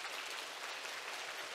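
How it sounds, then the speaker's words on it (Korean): A church congregation applauds witnesses coming forward during a Sunday sermon, a steady, dense wash of many hands clapping warmly throughout at an even level. "나오실 때 뜨겁게 박수해 주시기를 바랍니다"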